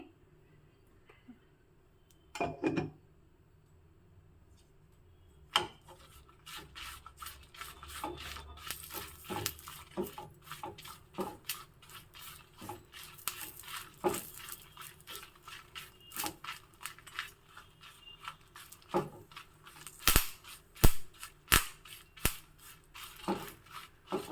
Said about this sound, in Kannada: ಒಂದು ಎಂಟತ್ತು ಕರಿಬೇವು ಇದಕ್ಕೆ ಒಂದು ಡ್ರಾಪ್ ಆಗುವಷ್ಟು ಎಣ್ಣೆ ಹಾಕ್ಕೊಂಡು ಹುಕ್ಕೋತಾ ಇದ್ದೀನಿ